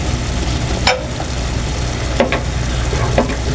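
Pakbet vegetables being stirred in a pan, with a steady sizzle and a few soft scraping strokes from the spoon spaced about a second apart, loud and close, no talk.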